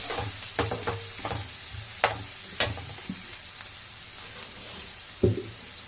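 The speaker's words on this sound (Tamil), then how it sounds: "தக்காளியெலாம் போட்டு அரைச்சிட்டோம் இல்லைங்களா, அது கொஞ்சம் நல்லா வதங்கட்டும்" Ground tomato paste sautéing in fish-frying oil in a pan, a steady soft sizzle with a few sharper pops and stirring scrapes, close and alone without talk.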